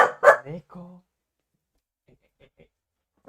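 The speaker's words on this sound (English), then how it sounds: "My dog has decided he's gonna be aggressive." A dog barks aggressively in two or three quick, loud bursts close to the microphone, with a short whine-like tail, then fades into near silence with only faint ticks.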